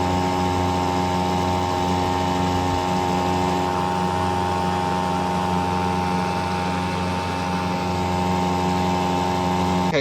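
A Hangkai outboard motor roars continuously at wide open throttle, a loud, steady, close drone with strong tonal hum and no variation throughout.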